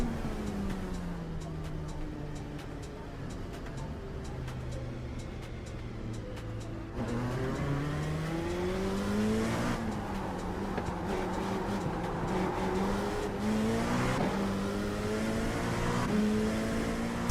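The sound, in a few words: race car driving at Daytona in a sim racing video game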